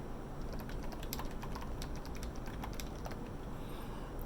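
Rapid, fairly quiet typing on a computer keyboard as an email address is entered, with irregular key clicks running continuously over a low room hum and no talking.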